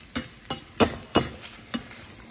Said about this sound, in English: Gonna stir that around.